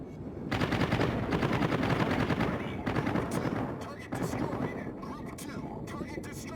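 Rapid gunfire from carrier aircraft strafing enemy planes in World of Warships, a dense, loud, sustained clatter running nearly the whole time with brief dips, while someone talks underneath.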